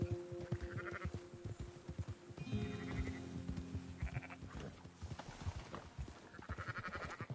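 Sheep bleat repeatedly in the video game Red Dead Redemption 2, several separate calls spread across the stretch amid hoof clatter and rustling ambience, moderately close and fairly faint overall.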